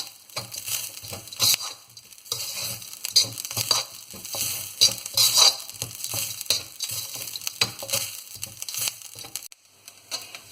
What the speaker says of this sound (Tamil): இது கூட எடுத்து வச்சுருந்த கறிவேப்பிலையும் போட்டு வதக்கணும்.